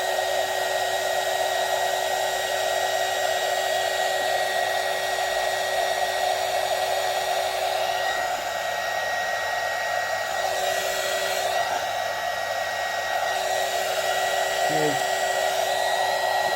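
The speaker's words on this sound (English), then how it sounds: "Turn on the heat gun" A heat gun blows with a steady, loud whooshing roar while shrinking heat-shrink tubing over guitar wiring on an Epiphone Les Paul, running unbroken throughout with slight shifts in tone.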